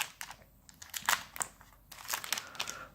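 Foil wrapper of a Ravnica Mythic Edition Magic card pack being torn open, close and quiet, with a run of crinkling rips and crackles in irregular bursts.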